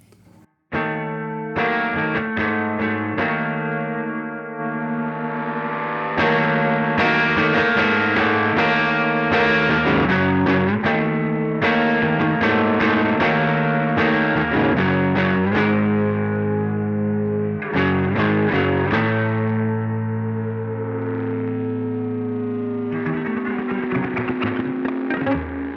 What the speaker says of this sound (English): maxes out color and feedback to really lean into what happens when you engage the limiter and let the feedback run wild